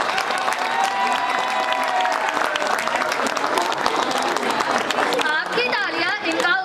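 Audience applause after a students' environmental drama in a school hall, a dense steady clapping crowd throughout with some cheering at the end, near and loud.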